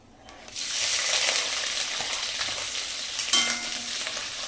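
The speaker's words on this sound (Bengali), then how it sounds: "এটা একটু ফ্রাই হয়ে যাবে, ফ্রাই হতে দেব।" Onion, green chili and garlic frying with cumin in a pan for a mung dal dish, a steady close hiss of sizzling oil that swells in after a quiet start and continues throughout, with a brief clatter near the end.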